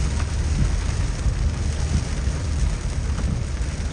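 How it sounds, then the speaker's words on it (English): Steady rain falls on a farm in a dense, constant hiss with low rumble underneath, heard evenly throughout with no voices. "And yes, it's raining again."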